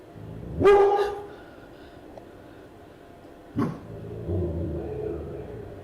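A dog gives two loud, separate barks about three seconds apart, with a low engine rumble continuing in the background.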